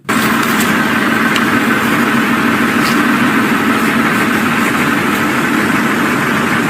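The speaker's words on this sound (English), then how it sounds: "You could hear the car engine running" A car engine idles steadily and loudly close by, a constant low rumble with mild vibration and no change in pace throughout.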